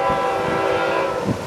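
FEC 202 freight train approaching with its horn sounding, a loud sustained chord holding steady throughout the short stretch with wind rumble underneath.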